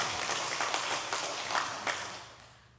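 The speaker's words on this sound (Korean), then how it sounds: "아, 박수까지." A church congregation breaks into applause during a Sunday service, a brief spell of scattered clapping from the pews that starts moderately and fades away toward the end, with no talking.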